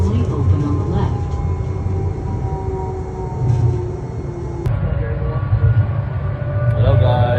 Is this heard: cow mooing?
no